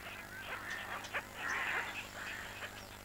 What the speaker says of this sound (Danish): I efterårs- og vintermånederne aflægger et forbløffende antal fugle besøg i reservatet.